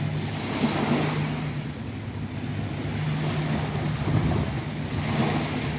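Continuous rushing surf of rough sea waves on a beach in summer with gusty wind noise on the microphone, loud and steady, no voices.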